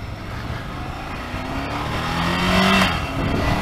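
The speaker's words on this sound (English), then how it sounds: "The engine is strong in the mid-range, where you'd expect it to be." A Ducati Monster 797 motorcycle engine accelerates on the road, a steady mid-range drone rising in pitch and growing louder toward the end, with no talk.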